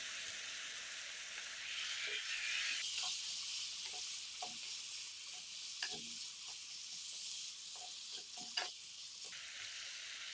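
Spices for a Bengali prawn and pumpkin curry sizzle steadily in a hot pan, with a brighter burst after water is added and intermittent scraping stirs throughout, close up and without speech.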